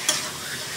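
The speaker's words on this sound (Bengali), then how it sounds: "এবার আমি জল দিয়ে দেবো, প্রয়োজন মতো জল" Water goes into a hot frying pan while cooking a paneer dalna, a brief near burst of sizzling and bubbling with a faint scrape.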